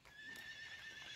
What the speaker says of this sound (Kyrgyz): Ушул жерде кашка кара байыр тай бар туугандар.